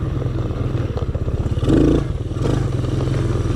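Children's Spark 110 quad bike engine pulling away and picking up speed, a close rattly putter that rises in pitch with a brief louder surge, with clattering over it.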